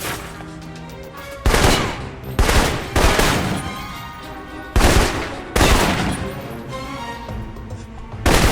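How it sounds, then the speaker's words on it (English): Assault rifle fire in the Alpha Protocol video game, a series of loud, sharp single shots and short bursts at irregular intervals, each ringing out with echo over quiet game ambience. "For long-range encounters, the assault rifle's the key"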